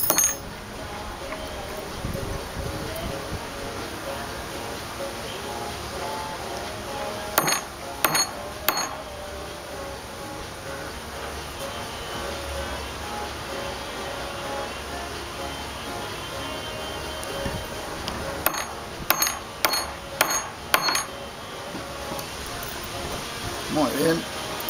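A punch driven through worn, partly torn recycled tent fabric gives two clusters of sharp, close metallic strikes. A few separate hits come first, then a quicker run of blows, over a low, steady background noise.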